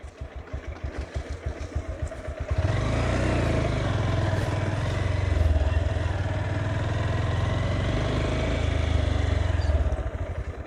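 A motorcycle runs along a forest track, its engine idling with a rough, rapid pulse before it rises into a steady, loud drone. The drone holds for several seconds and eases off near the end, close by and with no voices.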